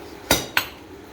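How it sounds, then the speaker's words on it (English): Two sharp metallic hammer strikes on an anvil while forging a round steel punch, about a quarter second apart, ringing briefly and close by, with quiet in between. "Half hammer face blow, 60 degrees."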